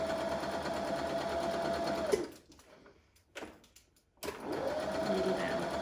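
An electric sewing machine stitches fabric with a steady close whir, pauses for about two seconds while the needle stays down and the fabric is turned, then starts stitching again.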